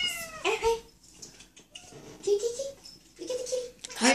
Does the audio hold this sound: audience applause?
no